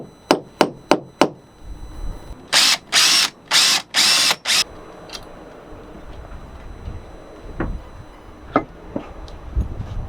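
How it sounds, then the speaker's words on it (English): A power drill bores a hole through a boat's hull for a Hydrovane H bracket. Loud bursts of drilling, about four in a row, follow a few sharp tapping knocks, and scattered clanks and handling noises trail off afterward. "I'm just going to drill the first hole for the H bracket."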